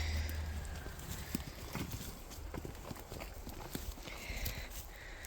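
Horse hooves clop in an irregular walking rhythm amid steady rain, fairly quiet and nearby.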